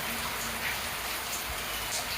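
A heavy rain downpour makes a steady, dense hiss of drops drumming on surfaces, loud and unbroken throughout.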